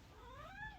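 A house cat gives a single faint, drawn-out meow with a rising, wavering tone, heard softly over a steady background hiss.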